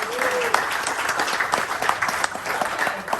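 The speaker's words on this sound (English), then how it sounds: "Give her a little round of applause." A small crowd claps steadily for a few seconds, a brief round of applause without cheering.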